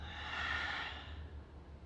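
A slow, gentle exhale during a yoga flow, a soft breathy whoosh that swells briefly and then fades, close and quiet.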